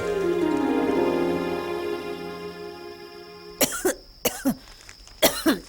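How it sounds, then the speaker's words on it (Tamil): A sustained tone fades out, then a few short, dry coughs sound close by in quick bursts, separated by brief pauses. "வெறும் வரட்டு இருமல் தான்."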